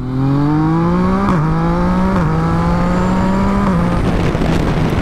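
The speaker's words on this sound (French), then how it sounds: "écoutez-moi le bruit du shifter" A Yamaha MT-09 motorcycle with an Akrapovič exhaust pulls hard while its quickshifter snaps through gears, three quick clipped shifts each briefly dropping the revs before the rising engine note resumes, loud and close.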